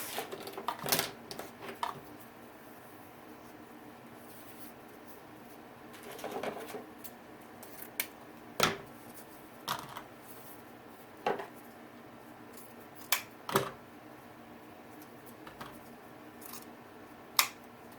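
Scissors cutting pieces for a wreath produce scattered crisp snips and paper-like rustles at an uneven pace, close by and fairly quiet, with no speech.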